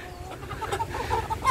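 A bantam crossbreed chicken clucks softly a few times nearby, short low calls over a quiet background.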